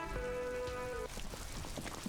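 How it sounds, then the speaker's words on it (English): Rain in the video game Disco Elysium, a quiet steady patter of raindrops on surfaces, with a brief tonal hum fading out early on. "it's fucking raining."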